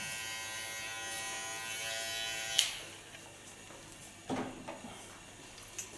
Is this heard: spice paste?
no